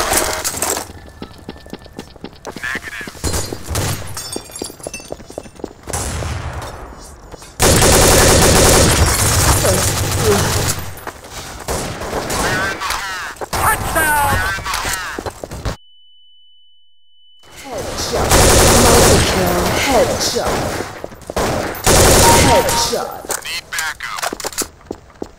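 Gunfire in the video game Counter-Strike: Source, loud and dense, with bursts of automatic fire and single shots, a brief tonal beep and a short silent gap, with voices speaking at times.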